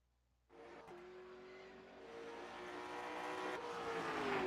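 A late model stock car lapping Five Flags Speedway in the iRacing simulator, its engine note rising steadily as it accelerates, loud and continuous after a sudden start, with no voices.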